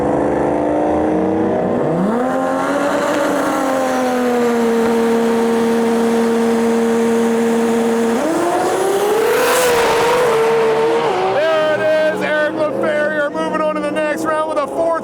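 A drag racing car roars through its elimination run at a Lights Out 16 event. The engine note climbs and holds loud and close, then surges higher and revs in bursts toward the end.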